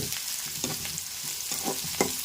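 Spice tempering frying in hot oil with curry leaves, a close steady sizzle with sharp pops and crackles scattered throughout, no talking.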